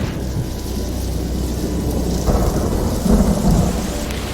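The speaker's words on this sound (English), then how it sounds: "There is thundering and all." Outdoors, heavy rain pours steadily as thunder rumbles low and close, swelling in a couple of deeper rolls over the constant hiss of the downpour.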